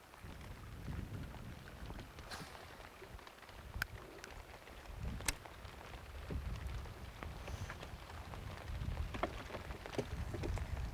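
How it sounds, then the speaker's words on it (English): Steady rain patters on water and a small mini boat during a fishing outing, with occasional sharper drops and knocks standing out over a continuous soft hiss throughout. "Fishing in the rain."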